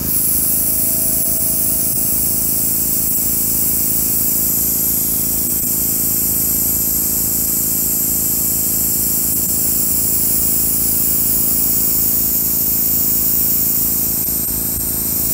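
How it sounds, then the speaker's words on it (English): An airbrush hisses steadily for the whole stretch, fed by a Harbor Freight air compressor that hums and drones continuously underneath, loud and close without pause. "Trying to spray it where you can see the pattern coming out of the airbrush."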